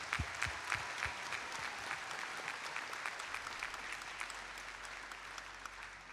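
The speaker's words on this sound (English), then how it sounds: "Can we get a round of applause for all the hard work you've done?" An arena audience at the opening ceremony of a district championship event claps steadily, with a few sharp individual claps standing out near the start before the ovation settles into a continuous even patter.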